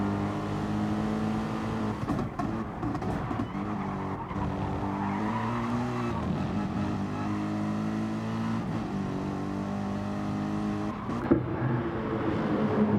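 Two race cars in Gran Turismo Sport battle closely at Barcelona, engines roaring steadily with rising and falling revs and occasional tire squeal, loud and continuous.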